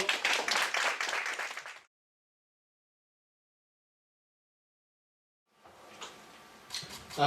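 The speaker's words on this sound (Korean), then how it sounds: "박수를 모셔주십시오." An audience at a corporate open house event claps to welcome a speaker in a brief burst that cuts off into silence, followed by quieter scattered claps and faint room noise near the end.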